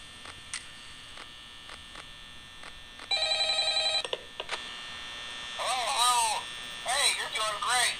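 A phone rings in the video game Five Nights at Freddy's, bursts of electronic trills over a steady hum, with brief clicks and tones before the ringing starts.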